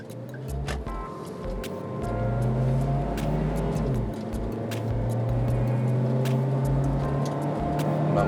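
A Toyota Avanza with an automatic transmission accelerates hard on a test drive, heard from inside the cabin. Engine drone climbs steadily in pitch over a constant road rumble, with a brief dip as the gear shifts and no voices.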